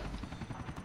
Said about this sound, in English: Fergie is a crazy helicopter driver.